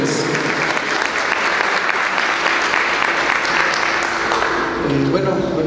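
An audience at a company raffle launch event welcomes the manager of Jack Motors with sustained, loud applause from many hands, a dense, continuous patter with faint background murmur.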